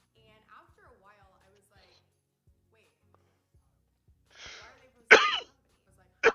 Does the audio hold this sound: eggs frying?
no